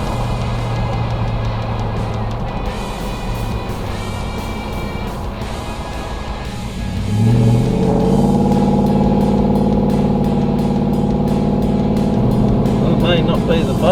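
A van engine drones and then climbs to a louder, harsher roar during a hot lap at Bathurst. Someone talks over the engine almost the whole time.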